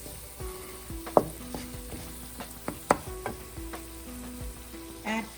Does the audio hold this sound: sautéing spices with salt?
yes